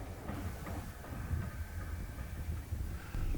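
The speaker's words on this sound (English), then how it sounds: "I think this train might be waiting on an eastbound" A BNSF freight train rumbles past at the Grand Island flyover in Nebraska, a low continuous rolling drone with faint wheel clatter heard from a moderate distance outdoors.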